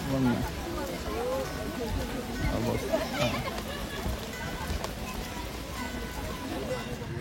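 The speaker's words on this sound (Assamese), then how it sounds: "মই এনেকুৱা বৰষুণ বেয়া নাপাওঁ" Rain falls steadily at Lum'er Pyngngad, a foggy picnic spot in Meghalaya, with a diffuse patter on surfaces beneath close speech that carries on over it.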